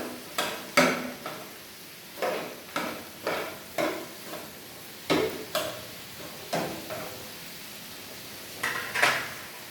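Vegetables and mushrooms being stir-fried in a pan, a soft sizzle beneath repeated clacks and scrapes of a utensil against the pan at an uneven pace, close and moderately loud, with no talk.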